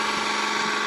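Steady motor whine from a VEVOR 12V 5-ton electric car jack as it lowers, a constant loud mechanical hum with no breaks.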